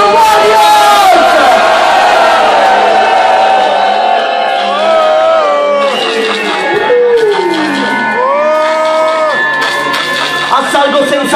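A crowd at a live rap concert cheers and yells over an MC's amplified shouting and sustained vocal tones, a loud, dense wall of voices from start to finish.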